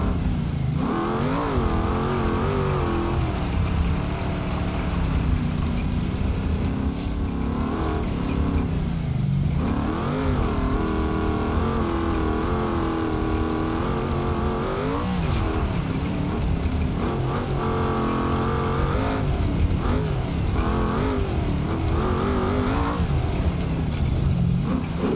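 Truck engine driving off-road in BeamNG.Drive at Johnson Valley, a loud continuous engine drone that rises and falls as it revs and shifts, steady and close throughout.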